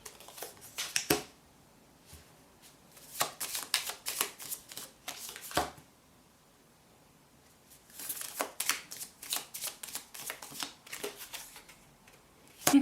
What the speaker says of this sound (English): Just putting out an extra card to clarify the last card here.